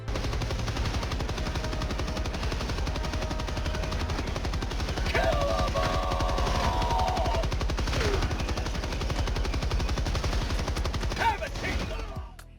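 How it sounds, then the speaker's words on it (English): Rapid automatic gunfire from the video game Helldivers 2 rattles on continuously for the whole stretch, dense and loud, with a brief tonal whine layered in midway and the firing carrying on behind it. "you can simply unload one bullet round after another, firing at enemies to your heart's content"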